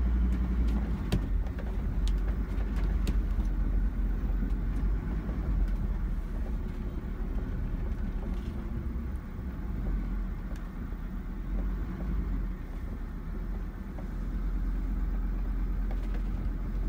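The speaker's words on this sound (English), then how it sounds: "Right, let's take it for a run now." A 2002 Mercedes-Benz Sprinter 316 CDI automatic diesel motorhome drives off from a steep, tight cul-de-sac, its engine a steady low rumble heard from inside with occasional clicks and knocks.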